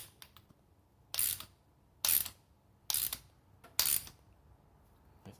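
A brake line flaring tool clamp being cranked down, giving four distinct ratcheting, clicking bursts at a steady interval, close and fairly quiet, with no talking.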